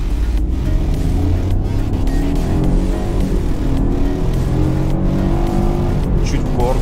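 BMW F30 318i with a 136 hp engine accelerating hard from a standstill in sport mode, heard from inside the cabin as a loud rising engine drone with gear changes, under a voice.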